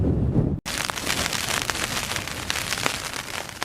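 Rain drums on the fabric of a Hilleberg Jannu tent in windy weather, a dense close patter of drops that starts abruptly after a brief muffled moment and continues steadily, with no voices.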